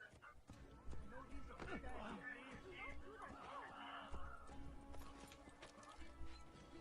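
Horse hooves clip-clop at a steady trot in the Assassin's Creed video game, a rhythmic patter mixed with game ambience and background sounds throughout.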